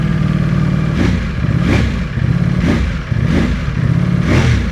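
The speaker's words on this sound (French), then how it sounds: "Ça sonne comme un bicylindre parce qu'elle a 2 de ces 4 cylindres qui sont éteints." A cold Ducati Panigale V4S four-cylinder sport motorcycle engine, running on two of its four cylinders, revs repeatedly from a rough idle, rising and falling in regular blips about once a second, loud and close.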